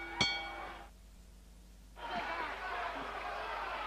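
At a boxing match, a single sharp ring bell sounds near the start to end the round, clanging briefly with a ringing tail before the crowd noise drops and then returns as a steady murmur.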